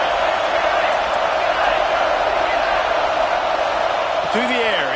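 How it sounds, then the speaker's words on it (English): Dense roaring crowd noise fills Neyland Stadium during a college football game on third down, a continuous loud wash with a commentator talking over it and a brief whistle-like sweep near the end. "Neyland Stadium alive, a cauldron of orange noise on 3rd down"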